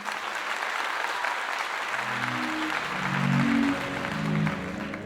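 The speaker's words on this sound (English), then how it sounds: "I want to clap to you all" Steady applause from a crowd of clapping hands fills the whole stretch, dense and even, swelling slightly near the middle while a faint voice murmurs underneath.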